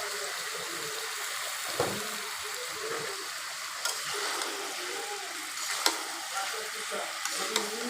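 Pieces of chicken sizzle and crackle steadily in hot oil, with occasional light clinks of a utensil; no one speaks.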